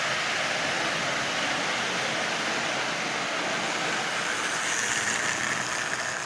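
A 1948 Lionel 1001, Lionel's first plastic toy locomotive, runs with a steady, continuous motor whir and track rumble. It is close and even-toned throughout, with no talking.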